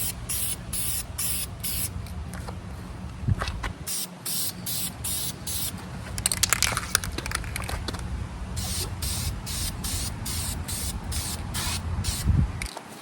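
A spray paint can lays metallic paint onto plastic car trim in a light first coat, a close, hissing spray that comes in repeated bursts with short gaps between them and runs steadily throughout.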